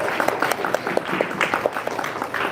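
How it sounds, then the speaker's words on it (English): An audience applauds a competition winner, a brief burst of scattered hand claps at moderate loudness. "So I would like you all to clap for her as well."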